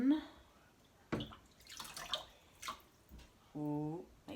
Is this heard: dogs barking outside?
no